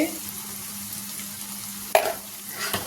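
Bitter gourd pieces with chili powder stirred and fried in a pan, a steady close sizzle with a sharp spoon scrape near the end and further stirring after it.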